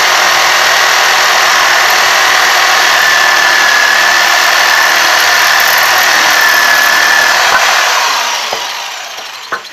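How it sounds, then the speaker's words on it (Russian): A power jigsaw buzzes steadily through wood for several seconds, loud and close, then winds down and stops near the end. "Вот так легко пилит наш лобзичек."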